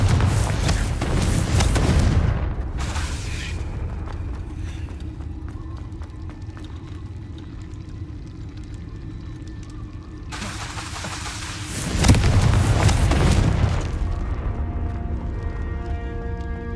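Loud booming blasts of the Confringo explosive spell in Hogwarts Legacy, one burst at the start and another heavier one near the end, with quieter rumbling ambience between them.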